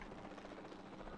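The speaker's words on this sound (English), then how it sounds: "This is a helicopter. How are we doing this?" A helicopter in the video game Jurassic World Evolution 2 gives a steady whirring rotor drone, faint and continuous throughout, with no clear speech over it.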